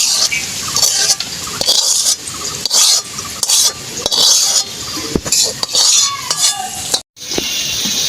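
Fried beans, carrot and capsicum being stirred into gondhoraj fried rice in a pan: repeated scraping strokes and metallic clinks of a spatula over a light sizzle.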